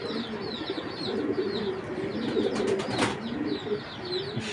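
Belgian racing pigeons, a foreign racing bloodline, give low, rolling coos that repeat steadily nearby over a constant background hum.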